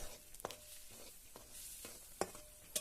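Spice tempering sizzles faintly in a masala with drumsticks, with a quiet continuous hiss broken by a few sharp stirring clicks and scrapes near the end.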